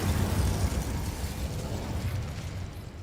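Incendio fire spell cast in Hogwarts Legacy during a hard fight, a continuous roaring whoosh of flame with crackling bursts, loud and steady throughout with no talking.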